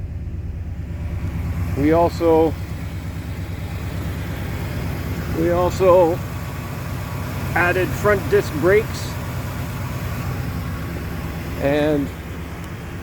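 A 1968 Oldsmobile 442 idles steadily with a low, even rumble that runs the whole time beneath a voice talking in short bursts.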